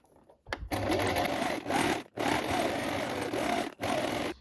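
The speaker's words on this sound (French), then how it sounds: "Et donc vous allez coudre à 1 cm du bord." A sewing machine runs a straight stitch 1 cm from the fabric edge in steady loud bursts, pausing briefly twice between runs, close up with no talking.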